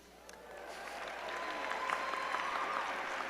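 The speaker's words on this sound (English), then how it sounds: "Great applause." Audience applause at a university commencement ceremony for a PhD graduate, a broad wash of clapping that swells over the first second and holds steady to the end, with a faint tone running beneath it.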